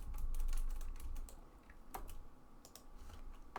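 Computer keyboard keys pressed while navigating a Natural Selection 2 map editor, a quiet run of rapid clicks and taps close to the microphone, no speech.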